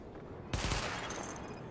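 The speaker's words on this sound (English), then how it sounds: "Open fire at the highlighted targets." Gunfire from a primary weapon test in the video game The Division: a loud burst of rapid shots starts abruptly and rings on with a continuous crackling tail, with no talk.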